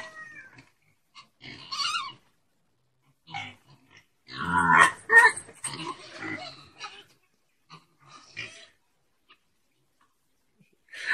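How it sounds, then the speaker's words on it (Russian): Pigs huddled together give several scattered grunts and squeals at close range, with a louder cluster midway and long quiet gaps between them. "Они даже всегда хрюкают по-разному"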